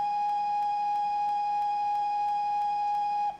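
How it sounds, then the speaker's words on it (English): A steady, sustained steam whistle tone with faint regular clicks as it loops, electronic and unbroken, fading out at the end. Victory Works J21 steam locomotive in Train Simulator 2019. "if you hold down this whistle for any length of time"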